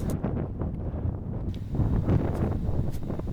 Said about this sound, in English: At this point close to the summit of Asahi-daké, the wind was very strong